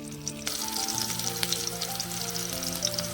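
Green chilies frying in oil for a buttermilk rasam, a loud, close, continuous sizzle and crackle with a few sharp pops, and no voice over it.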